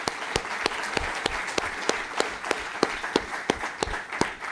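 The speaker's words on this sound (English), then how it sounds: "Please, another round of applause for Professor Keulder." Rhythmic unison clapping from an audience honouring a professor after an inaugural lecture, evenly spaced sharp claps over a bed of scattered applause, steady and fairly close.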